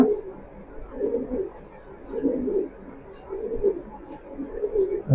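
Racing pigeons coo in a steady rhythm, about four rolling bursts of low, throaty calls spaced evenly and heard up close with no talk.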